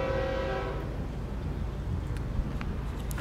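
A train passes in Miami, Florida: a horn blast fades in the first moment, then a steady, moderately loud rumble of rolling wagons continues to the end.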